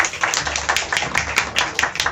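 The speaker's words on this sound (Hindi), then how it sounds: "तालियां सर के लिए।" A small group claps steadily for a guest at an herbal store event, a brisk, fairly close patter of hands without voices.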